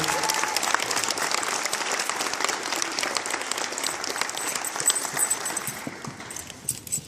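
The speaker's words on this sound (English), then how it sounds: "Let's give them one more big round of applause before we come through." At a sixth grade promotion ceremony, the audience gives the students a loud, dense round of clapping that holds steady and then thins into scattered claps near the end.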